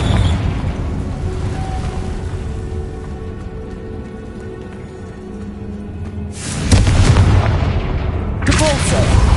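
In the wizarding game Hogwarts Legacy, a Confringo blasting spell explodes twice in quick succession. The loud booms with crackling debris rise out of a bed of game ambience and music, and speech is heard earlier.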